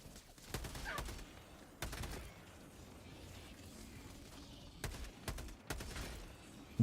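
Bursts of automatic weapon fire in Helldivers 2: short rapid volleys near the start, near two seconds and again around five seconds, over a low ambient game background.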